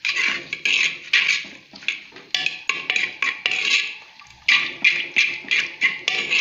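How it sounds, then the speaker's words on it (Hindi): A spoon scrapes and knocks repeatedly against a pan while onions fry toward light brown, making bursts of close metallic clatter in an uneven rhythm with short pauses, and no one speaking. "चम्मच चलाते जाना है कि हमारा प्याज जो है वो लाइट ब्राउन हो जाए।"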